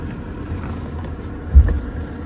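A BMW E36 with a manual gearbox gives one dull, low drivetrain thunk partway through, rising briefly over a steady engine rumble and cabin noise.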